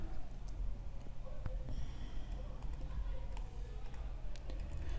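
Computer keyboard keys clicking as a font name is typed into HTML code, a quick irregular run of light taps close to the microphone over low room noise.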